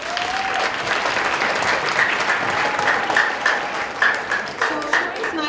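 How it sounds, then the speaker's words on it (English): Audience applause after a student strings concert event, steady dense clapping for several seconds with a sustained tone and a voice faintly under it. "So give yourselves a nice round of applause."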